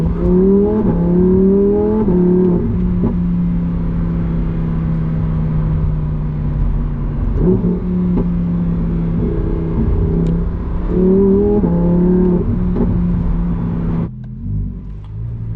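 A 2025 Lamborghini Huracan Tecnica's V10 engine drones steadily from inside the cabin while driving, with rising revs that fall and swell again through shifts before cutting off near the end.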